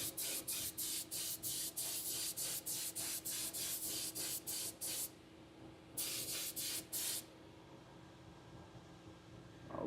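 A spray can lays a base coat on a donut baby shark craft in a rapid run of short, hissing bursts. A pause follows, then a few more quick bursts, close and crisp with no speech.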